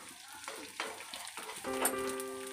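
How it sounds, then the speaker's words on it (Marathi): Small pieces of edible gum (dink) are dropped into hot ghee and fry with a soft, crackling sizzle. A few light clinks of a spoon sound partway through, and the whole scene stays fairly quiet. "तूप गरम झालेलं आहे थोडं थोडं टाकून आपण हा डिंक फ्राय करून घेऊया"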